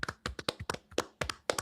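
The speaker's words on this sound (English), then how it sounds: "Everybody, please give Ryan a round of applause." A studio audience claps in a ragged burst of separate hand slaps, close and moderately loud, each clap distinct rather than merged into a dense roar.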